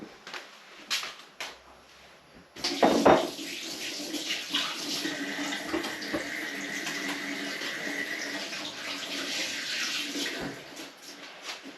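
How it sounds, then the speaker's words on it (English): A kitchen tap turns on after a few quiet knocks, and water runs steadily as hands are washed beneath it, with splashing shifts over about nine seconds, close and without talk. "Quick wash of the hands."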